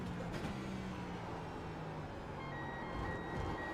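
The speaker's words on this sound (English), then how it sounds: "Somebody's going in the pits. I can hear the alarm system going off." A pit lane alarm from a racing video game set at COTA sounds as steady tonal beeps over continuous engine and road noise throughout.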